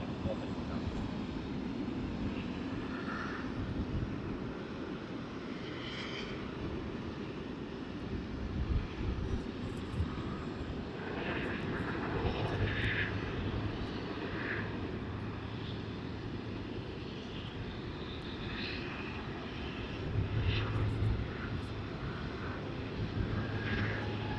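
A fixed-wing airliner taking off from runway 34 Left at Sydney Airport gives a steady, loud engine roar that fills the whole stretch, mixed with buffeting wind noise on the microphone.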